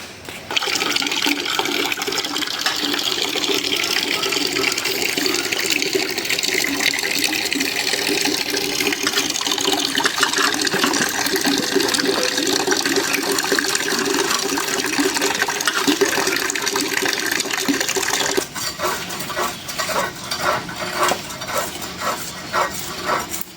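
Fish are washed under running water, with a loud, continuous splashing gush that keeps up throughout and grows choppier with handling near the end.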